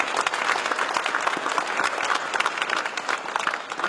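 A hall full of people claps steadily and densely throughout, welcoming guests at the opening of an exhibition about the 1939–1945 war; the applause stays close and even without any talk.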